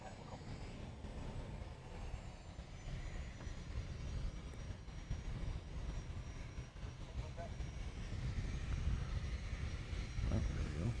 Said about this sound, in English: Oh, another private jet coming down this way.